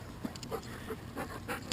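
A puppy pants softly in quick, rhythmic breaths, close but faint, with small whimpery sounds and light shuffling during grooming.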